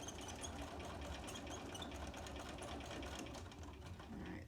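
A sewing machine runs steadily and fairly faintly as it tacks down a seam on a quilt block, a continuous rapid whirring stitch with no pauses.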